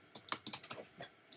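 A child's fingers tapping a computer keyboard during a typing lesson, about eight crisp, close keystrokes in an uneven rhythm within a second and a half, with no talking.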